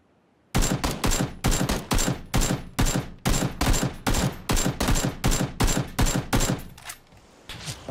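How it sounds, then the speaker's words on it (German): SKS rifle fire in a video game, a rapid run of about twenty sharp shots in quick succession, close and loud, tapering off near the end. "Irgendwo schießt eine SKS."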